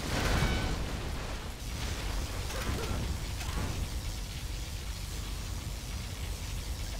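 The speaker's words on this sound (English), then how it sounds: "Particle cannon activated." Particle cannon firing from Command & Conquer Generals Zero Hour, a sustained roaring energy beam with dull explosion bursts in a dense, continuous game soundscape, no speech.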